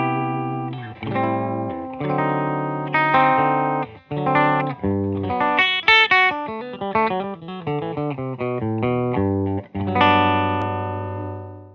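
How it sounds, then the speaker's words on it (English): 2012 Fano PX6 electric guitar through a 1967 Fender Bassman amp with a Walrus Audio LM308 RAT-style pedal, playing distorted chords and melodic phrases with clear sustain, loud and close, alone. "so I have a 2012 Fano PX6 running into a 1967 Fender Bassman, and it sounds like this."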